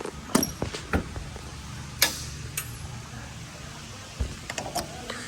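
Hood pull pins are drawn out on a 1972 Chevrolet Chevelle with a front spoiler, giving a few sharp metallic clicks and ticks spread across a quiet outdoor background.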